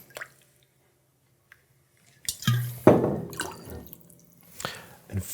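Vanilla vodka for a sugar cookie martini pours into a cocktail shaker or glass, a short liquid glug and splash after near silence, followed by a few faint drips and clinks.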